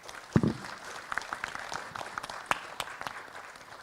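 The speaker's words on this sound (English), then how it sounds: "Please join me for a round of applause to our panelists." An audience at a renewable energy manufacturing seminar applauds its panelists, with a loud close clap or knock at the start, then scattered, fairly light clapping from a modest crowd that carries on unevenly.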